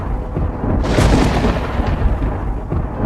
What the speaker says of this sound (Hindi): आसमान में बिजली कड़क रही थी।